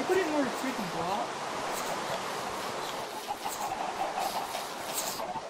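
A chicken clucks in a video game among dense, noisy game sound that fills the whole clip, while players talk.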